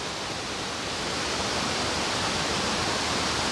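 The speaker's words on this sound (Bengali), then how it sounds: "এই হলো জাদে ভাই ঝর্ণা।" A waterfall rushes in a dense, unbroken roar of falling water, loud and close with no voices over it.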